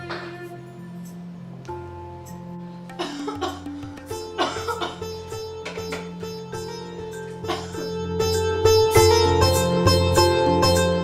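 A girl with a fever coughs in several short bursts over sustained background music, the coughs growing denser and louder toward the end.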